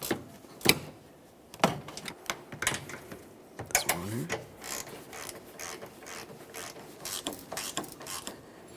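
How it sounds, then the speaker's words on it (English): Ratchet wrench with a 15mm socket snugging the strut bolts on a 2012-2015 Honda Civic, heard as close, irregular clicking bursts and metallic knocks with some mechanical rattle. "We'll be using a 15mm to snug these."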